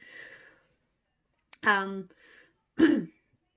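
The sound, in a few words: throat clearing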